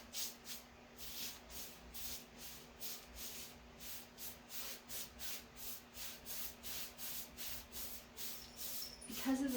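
A paintbrush cross-hatches paint onto a 1940s vintage dresser, making soft rhythmic swishing strokes, close and fairly quiet, repeating evenly back and forth over a faint steady hum.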